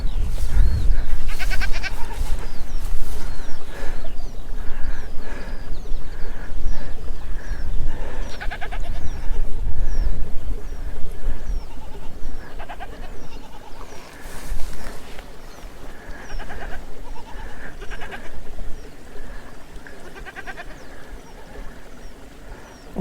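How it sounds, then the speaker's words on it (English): Goats bleat repeatedly beside a stone wall on a Northumberland hillside walk between Hethpool and Wooler Common, some calls near and loud, others farther off, over steady wind and outdoor rumble. "That's what the goat's getting upset about."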